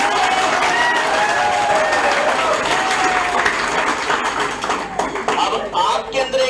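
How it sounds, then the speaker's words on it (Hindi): An audience claps loudly and continuously, a thick wash of many hands that stays strong throughout before thinning slightly near the end. "तालियां बजाने से जान आती है।"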